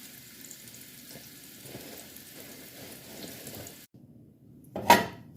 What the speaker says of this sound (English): now that I finished frying the potato, I'm pouring off the oil